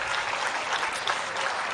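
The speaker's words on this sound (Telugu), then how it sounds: "వాళ్ళందరూ కూడా ఒకసారి చప్పట్లు కొట్టుండి" Audience applause at a Hindu Sammelanam gathering, a dense steady clapping from a crowd that stays at an even loudness throughout without pause.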